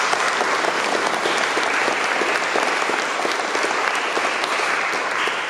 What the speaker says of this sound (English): And do you want to give a round of applause?